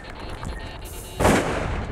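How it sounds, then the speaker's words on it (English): Shotgun fired at ducks during a waterfowl hunt in Alberta: one sharp, loud blast midway through, with a decaying tail, after quieter outdoor background. "Nice shot, Doug."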